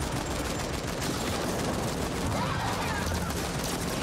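Guns fire in The Ascent, a video game, in a dense, continuous rattle of rapid automatic shots that runs without a break from start to end.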